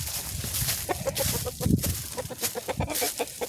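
Backyard chickens clucking behind their coop, a close, uneven run of soft clucks and low murmurs with occasional sharper calls.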